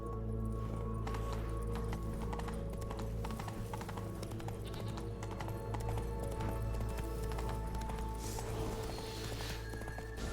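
Galloping horse in The Witcher 3: Blood and Wine, steady hoofbeats running under continuous game music and ambience, loud and close throughout.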